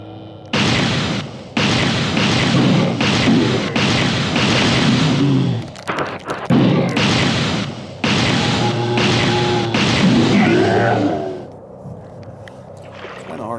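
Gunshots from a handgun in the survival horror video game Alone in the Dark: The New Nightmare: a run of loud, booming blasts in quick succession over about eleven seconds, then fading to a quieter backdrop.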